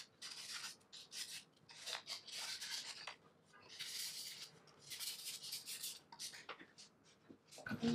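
The painted finish coating of a guitar body is gently hand-sanded with soft sandpaper, producing bursts of raspy, hissing rubbing strokes in an uneven back-and-forth rhythm, close and clear with brief pauses between passes.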